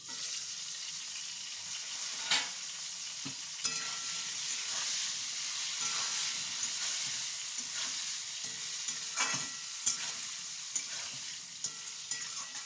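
Eggplant and potato sautéing in a pan for a Bengali rohu fish curry, a steady close sizzle and hiss with occasional scraping stirs of a utensil against the pan, no talk.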